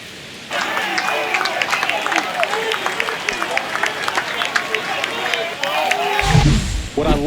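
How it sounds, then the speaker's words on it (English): A New York stadium crowd in the baseball game MLB The Show 25 stirs after a home run, a sustained, loud murmur of clapping and babble that swells near the end, with a commentator talking over it. "The crowd is devastated here in New York"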